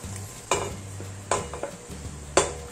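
Chopped onion dropped into meat juices in a pan for a beef stew, giving a low constant sizzle punctuated by three distinct stirring clacks of a utensil against the pan, with no voices.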